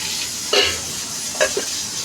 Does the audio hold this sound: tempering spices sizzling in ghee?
yes